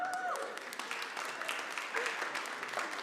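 Congregation at a Sunday church service clapping in a steady, moderate patter that fills the space, with faint voices audible through it.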